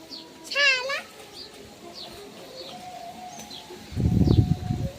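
A bird on a riverbank gives one loud, clear warbling call early on, followed by a few faint scattered chirps, with people's voices and rustling noise near the end.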